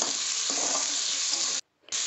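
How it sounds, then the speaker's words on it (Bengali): Ginger, garlic, onion and chili paste sizzles loudly in hot oil as it is stirred and fried. The steady close frying hiss drops out briefly, then resumes. "মশলাটা দিয়ে ভালো করে একটু নাড়াচাড়া করে নেব, একটু কষিয়ে নেব"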